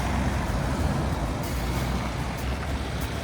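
A truck reverses a static fifth-wheel caravan up a residential drive off the road, its engine droning steadily at close range with a brief hiss like an air brake partway through and no talk.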